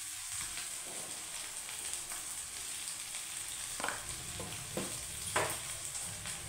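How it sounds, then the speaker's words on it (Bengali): Spiced potatoes with chili, turmeric and coriander-cumin powder sizzle steadily in a frying pan while a spoon stirs and scrapes through them, with a few sharper clinks and scrapes standing out over the constant frying hiss. "দিয়ে এটাকে ভালো করে নেড়ে মিশিয়ে নেব"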